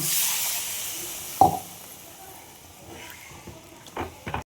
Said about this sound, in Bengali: আমার এই মশলাটা কষানো হয়ে গেছে, জল ঢেলে দেব